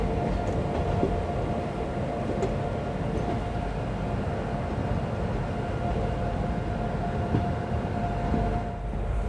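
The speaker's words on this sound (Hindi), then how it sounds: "हमारी ट्रेन अब लालगंज से निकल चुकी है" A passenger train rolls along after pulling out of Lalganj station on the Raebareli line, a steady rumbling clatter of wheels and carriage noise held at even loudness throughout, with no voices.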